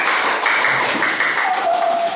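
Applause for the Sawi group during a teaching-practice session on prayer prostrations, a dense wash of hand claps from a small group that carries steadily through the whole short stretch at a moderate level.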